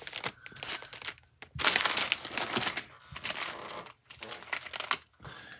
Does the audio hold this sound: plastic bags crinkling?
yes